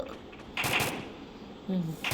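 Two short bursts of Free Fire video game gunfire crack out, separated by a quiet pause, with faint background sound between them.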